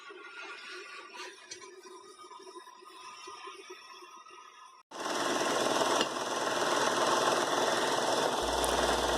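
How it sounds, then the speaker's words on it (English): Belt sander grinding the handle of a cleaver forged from leaf spring steel, starting abruptly about halfway through as a loud, steady, dense whirring rasp, preceded by quieter workshop noise. "I'm just trying to make sure that I get it down to as fine of a grit as I can on the belt sander"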